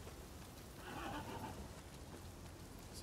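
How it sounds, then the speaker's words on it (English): Horse whinnying in the video game Rise of the Ronin, a single mid-distance neigh over a steady patter of rain. "They're just horses."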